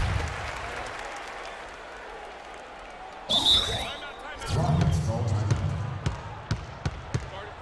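Basketball video game crowd cheering and applauding at a home court late in the fourth quarter, a rising swell of fan noise with ball bounces and sharp court sounds, fairly close and lively.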